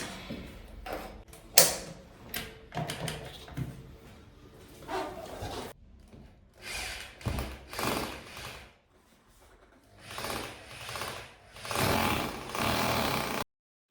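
Power drill boring 6 mm holes into an apartment wall during electrical renovation, with bursts of grinding drilling broken by short pauses and handling clatter, close and loud.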